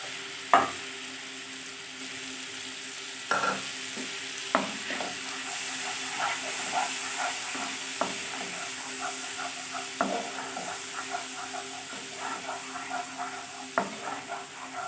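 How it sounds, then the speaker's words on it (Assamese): Turmeric, chili powder and cumin sizzle in hot oil for a coconut fish curry, a steady frying hiss broken by periodic stirring knocks and scrapes, close up with no talk. "আৰু এইখিনি তেলতে মই এতিয়া মছলা দিম।"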